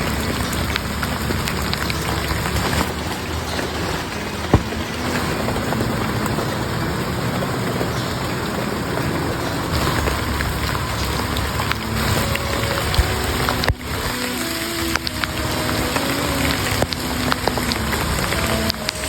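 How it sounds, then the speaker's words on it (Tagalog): Heavy rain drums loudly and constantly on a tarp roof over a hut, a dense unbroken patter with occasional sharper taps. "nung lumakas na nga dito ang ulan"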